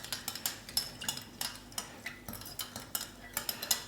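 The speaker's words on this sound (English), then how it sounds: "we're just going to give that a good stir, just to start dissolving the sugar into the mixture there" A spoon stirs sugar into a botanical vinegar mixture in a container, producing a rapid run of light clinks and taps against the sides in an uneven rhythm, close and fairly quiet, with no voices.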